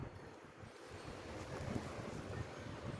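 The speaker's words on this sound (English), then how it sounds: "It's windy today." Steady wind gusts buffet the microphone outdoors by garden greenhouses, with low rumbling noise, faint and continuous, no voices.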